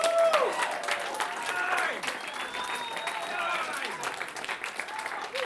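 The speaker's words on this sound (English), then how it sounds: "one more round of applause for DTI, who has won this 9 times" An audience at the Infinite Bacon event applauds DTI, a nine-time winner, with steady clapping mixed with whoops and voices that ride over it for the whole stretch.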